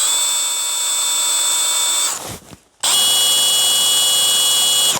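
A Milwaukee M12 FPD2 cordless drill with a chuck that will not rotate runs with a steady high-pitched whine, stops briefly mid-way, then starts again and keeps running loud and close.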